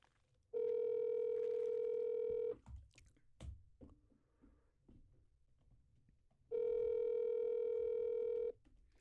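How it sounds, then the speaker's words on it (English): Phone call tones coming through a Zoom call: two long, steady electronic ringing tones, each about two seconds, separated by a gap of soft noise and faint clicks, heard clearly without any talking. "Why don't you call? Give Jinx a little ring"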